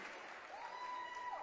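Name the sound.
crowd applause for fighters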